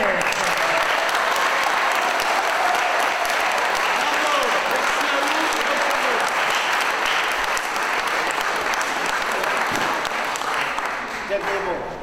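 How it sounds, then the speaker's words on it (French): A crowd applauds loudly and without a break at a Liège Basket team presentation held in a garage, a dense wash of clapping that lasts throughout with faint shouts and voices mixed in. "Les applaudissements à fond la caisse."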